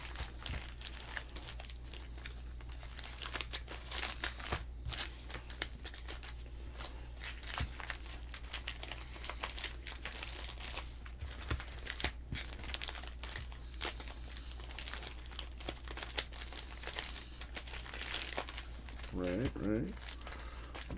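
Foil trading card packs from a 2022 Panini Prizm WWE hobby box crinkle and rustle steadily as they are shuffled by hand, close and continuous for the whole stretch, with a brief voice near the end.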